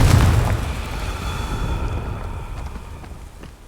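Confringo spell blast in the Hogwarts Legacy video game, a single heavy boom at the start that rolls off into a decaying rumbling tail, with no other sound over it.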